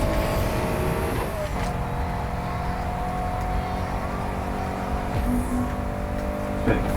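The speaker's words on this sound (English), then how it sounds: "I can hear that Chevy coming up behind me." A Chevy race car in the Need for Speed Heat racing game drones steadily up close, a continuous engine roar with a faint rising whine over the mix.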